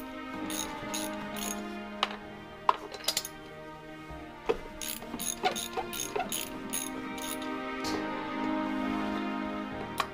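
A ratchet wrench loosens the spark plugs on a Saturn 1.9 DOHC engine, giving quiet bursts of rapid clicking with a few sharp metallic taps and pauses between strokes.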